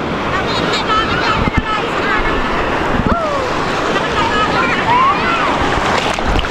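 Strong waves crash and roar continuously close by, a dense steady wash of surf with wind buffeting throughout.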